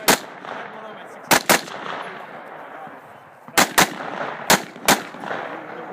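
Sharp, loud gunshots at an outdoor 3-gun shooting competition stage, fired in quick pairs and singles with gaps between, over a low background of outdoor noise.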